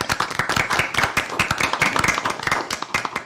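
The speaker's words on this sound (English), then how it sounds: "Let's give these students a round of applause," An audience at a school board meeting applauds students with steady, moderately close hand clapping from a small group, sustained evenly for a few seconds with no talking over it.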